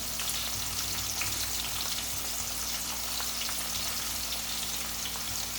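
Red chili masala frying in a pan for prawn bhaji, heard as a steady, fairly quiet sizzle with light crackles over a low hum, continuous throughout with no voices.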